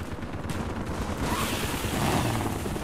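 Shotgun fire in Call of Duty: Black Ops comes as a dense, continuous spray of overlapping shots at moderate level, with other battle noise mixed in.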